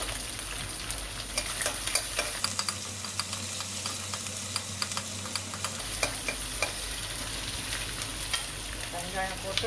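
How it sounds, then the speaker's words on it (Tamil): Onions stirred and sautéing in a pan with curry leaves and green chillies for masala dosa, a steady sizzle and frying hiss with stirring scrapes throughout, close and fairly loud. "வெங்காயம் போட்டு நல்லா வதங்கட்டும்"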